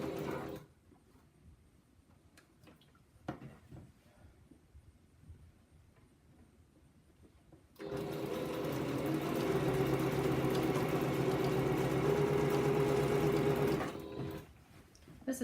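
A sewing machine stitches quilt rows together, quiet handling and faint fabric rustle at first, then a loud steady motor whir runs continuously for about six seconds before stopping.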